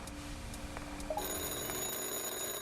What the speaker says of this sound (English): Just finishing up in time for a phone call.